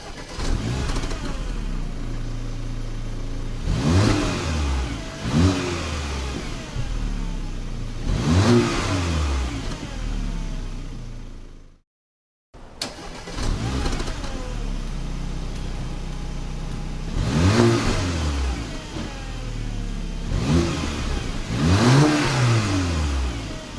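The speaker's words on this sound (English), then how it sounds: "we gotta go ahead and listen to the exhaust note" Exhaust of a 2017 Porsche Macan base with a 4-cylinder engine, revved close by in repeated bursts that rise and fall over a steady idle, with a brief cut in the middle and no talk.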